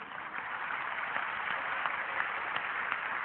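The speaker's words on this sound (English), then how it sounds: "MashaAllah, you're clapping." An audience claps together in a dense, steady patter of applause that stays even and fairly close, filling the room without voices on top.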